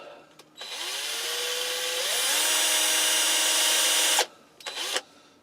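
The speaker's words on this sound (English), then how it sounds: "Right, we'll get the holes drilled." A power drill whirs steadily for about three seconds, pitch rising as it bites into scrap wood while drilling holes, then stops, followed by a couple of brief bursts.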